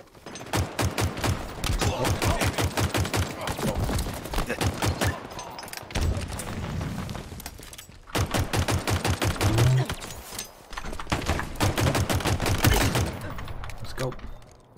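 Rapid automatic gunfire from a weapon in Halo Infinite multiplayer crackles in long sustained bursts, broken by brief pauses, loud and close, with game effects beneath.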